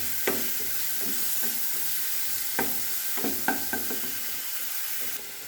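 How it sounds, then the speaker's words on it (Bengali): Onion paste is being stirred in a frying pan after a panch phoron tempering, while cooking parshe fish in mustard. A steady close sizzle runs throughout, broken by a few sharp spoon scrapes and knocks against the pan. No one speaks. "এবার আমি পেঁয়াজ বাটাটা দিয়ে দেব। পেঁয়াজ বাটাটাকে ভালো করে নেড়ে চেড়ে নেব।"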